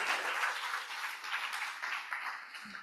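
A church congregation applauds together, sustained clapping from a crowd that stays steady and moderately loud, then begins to thin toward the end.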